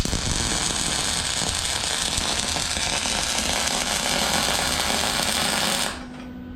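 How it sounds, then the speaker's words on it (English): Continuous loud buzzing crackle of an arc weld tacking a small steel forging jig together in a blacksmith's shop, steady for several seconds, then cutting off abruptly. "I'll just weld him on."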